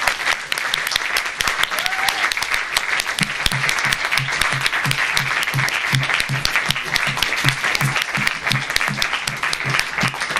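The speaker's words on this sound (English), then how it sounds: "And a massive round of applause for these guys." Sustained, loud audience applause fills the room after a debate on Christian versus secular values, a steady dense wash of clapping with a rhythmic thumping beat underneath.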